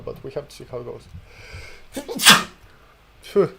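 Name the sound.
sneeze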